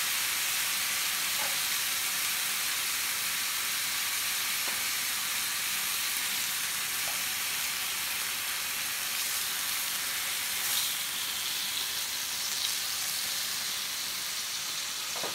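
Bacon strips sizzling in a breakfast frying pan, a dense, steady hiss of fat crackling close by with a few faint pops and clicks, no talking.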